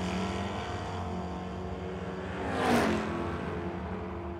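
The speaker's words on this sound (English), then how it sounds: "And the Buick is going to pull the Camaro down the racetrack." A Buick GS drag racing against a Camaro at DragWeek 2014 in Noble, Oklahoma: steady engine roar with a louder pass swelling briefly near the middle before easing back, no talk.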